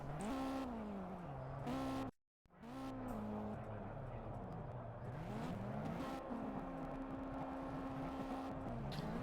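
Race cars at Brands Hatch in a racing game pull away, several engine notes rising and falling through gear changes with a short dropout partway through, sustained and fairly loud.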